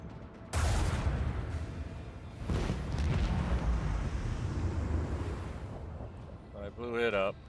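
A ship explodes in Warhammer 40K Rogue Trader space combat with a sudden loud blast, followed by a second rumbling surge and a long fading roar, then a brief voice-like warble near the end.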